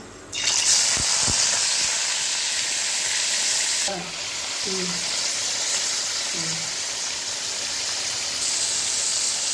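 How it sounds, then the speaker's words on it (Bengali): Marinated fish, salted and coated with turmeric, dropped into hot oil to fry: a sudden loud sizzle bursts in and holds as a steady close hiss, with a few short clinks and brief sounds over it. "তেলটা আমার গরম হয়ে গেছে, এবার দিয়ে দেবো মাছটা।"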